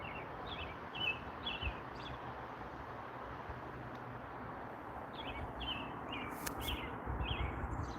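Small birds chirp and call in short repeated bursts over a steady outdoor rumble like wind or distant traffic, moderately far off.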